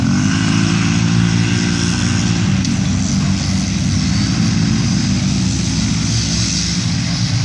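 Polaris 800cc and 900cc snowmobile racing machines roar past in a steady, loud, continuous engine drone that holds throughout without a break.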